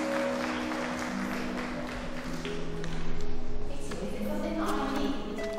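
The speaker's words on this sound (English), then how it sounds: "So I think she deserves a clap" Children clap together in a primary school drama class, a moderate rolling patter of many small hands that swells briefly midway before tapering, heard at some distance in a room.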